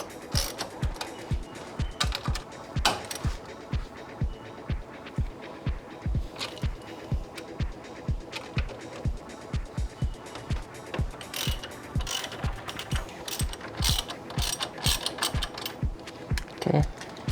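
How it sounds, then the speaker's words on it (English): Hand ratchet loosening 13mm caliper bolts on a Wilwood Aero 6 brake caliper, a long run of rapid rhythmic pawl clicks in repeated strokes, close and loud, no talking. "Again, these bolts are 13mm. Loosen these bolts."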